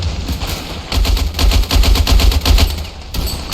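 Rapid bursts of automatic and single gunfire in Ravenfield, a World War I trench battle at Passchendaele, loud and dense throughout with overlapping shots and a brief lull near the end.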